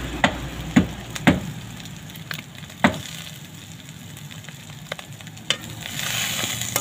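Onion and garlic fry in a pan outdoors for beef pinapaitan: a soft, continuous sizzle punctuated by several sharp spatula clacks against the pan, close and fairly quiet, with no voices.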